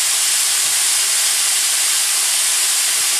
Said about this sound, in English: Next, I'm throwing the onions